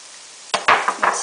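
Garlic hits a pan of browned onions and bursts into a brief, bright sizzle in a few quick surges from near silence, lasting only about a second.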